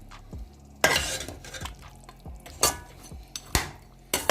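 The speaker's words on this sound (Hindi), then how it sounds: "इसको हम अच्छे से मिक्स कर देते हैं ताकि जो है दही वो इसमें अच्छे से मिक्स हो जाए।" A spoon scrapes and clanks around a pot as yogurt is mixed into mutton curry, with several sharp metallic knocks and wet stirring sounds between them and faint sizzling underneath.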